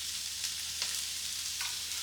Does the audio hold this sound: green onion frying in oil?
yes